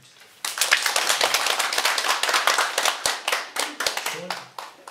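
Audience at a lecture on mind practice and spiritual cultivation breaking into lively hand clapping that starts abruptly and continues steadily for several seconds, close and fairly loud, thinning out toward the end.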